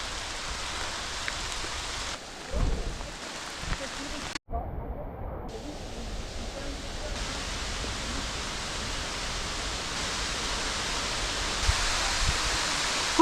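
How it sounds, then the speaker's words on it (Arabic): Heavy rain pours through a forest during a storm, a dense, steady roaring hiss that fills the whole clip, broken only by a very brief dip partway through. "شلون مطر يا الهي"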